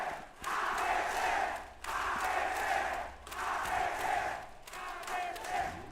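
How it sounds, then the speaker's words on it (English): An esports arena crowd at a Valorant match roars in rhythmic swells, repeated loud chant-like cheering bursts separated by short pauses. "You can hear the crowd rallying behind them, hungry for blood"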